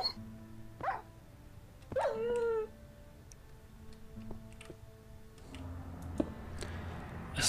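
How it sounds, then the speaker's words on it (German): A dog from the Mo' Creatures mod in Minecraft gives a few short whimpering yelps and whines, spaced apart among faint ticking game sounds and a low background hum, with no talk. "Es war keine sehr kluge Idee, diesen Hund mitzunehmen."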